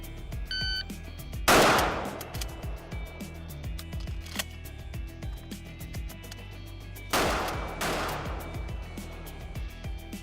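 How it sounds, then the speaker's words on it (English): A pump action shotgun fires three rounds outdoors, one sharp blast followed later by two close together, each loud and near, with metallic clicks of shells being loaded and the action cycled in between. "I'm going to mount, fire 1 round, and then load 2 rounds into the empty shotgun,"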